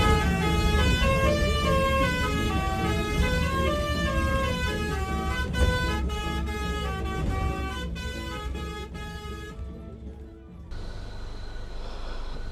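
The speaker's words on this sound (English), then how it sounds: "It's the bus horn, right?" Bus horn playing a repeated musical tune for about ten seconds, loud and sustained with stepped tones, then stopping sharply, leaving street noise.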